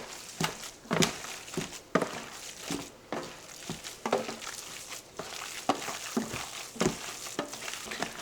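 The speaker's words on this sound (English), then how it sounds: "and just mix it in." Ground pork being mixed by hand with dark red chorizo sauce, giving wet squelching and slapping sounds in an irregular rhythm, close up and moderately loud, without speech.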